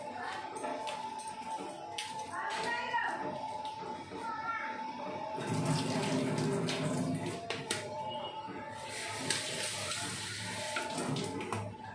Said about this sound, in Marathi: मग 2-3 पाण्यानं चांगलं धुवून घ्यायचं